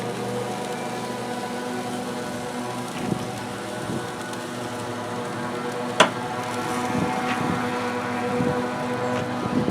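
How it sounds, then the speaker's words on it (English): A lawn mower drones steadily outdoors throughout, a continuous engine hum with a faint sharp click near the middle, while a grill sits nearby. "Sorry about the mower noise."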